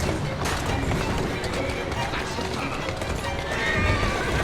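Horse-drawn carriage in the Assassin's Creed Syndicate video game: steady, close clip-clop of hooves with a horse neighing, under dense street and carriage noise and voices.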